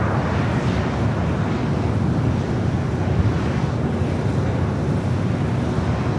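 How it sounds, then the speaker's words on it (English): An American Airlines A321neo takes off from LAX, a loud, steady jet roar rumbling continuously with heavy wind buffeting on the microphone and no voices. "This is American Airlines 1086 taking off to Miami, Florida off the"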